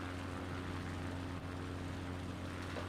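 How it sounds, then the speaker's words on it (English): A simulated airplane in Microsoft Flight Simulator drones steadily with a faint, even propeller hum throughout, distant and unchanging. "Somebody's got an airplane nearby. It's still flying."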